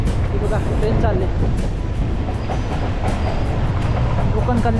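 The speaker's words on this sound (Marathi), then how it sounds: "ट्रेन चाललेली आहे, ट्रेनचा आवाज आलेला आहे मला" Passenger train passing near Pen rolls by with a loud continuous rumble and rhythmic wheel clatter, with a voice speaking over it.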